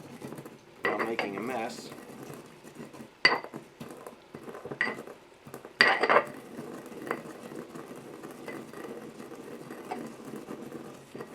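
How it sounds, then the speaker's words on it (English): Coriander seeds being crushed in a cast iron mortar and pestle while making a beef and bean chili, heard as a few sharp metallic knocks and scrapes close by amid kitchen clatter, with brief talk. "This is a cast iron mortar and pestle."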